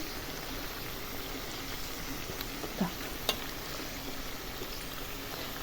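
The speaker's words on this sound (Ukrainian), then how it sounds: "Тепер хай смажиться із цибулі" A steady, soft crackling sizzle of onions frying in a pan, with a couple of faint clinks over the continuous hiss.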